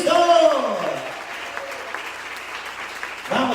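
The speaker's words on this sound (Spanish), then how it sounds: "Dele fuerte esos aplausos a Cristo." A church congregation applauds during a service, with steady, fairly loud clapping between bits of a preacher's voice at the start and end.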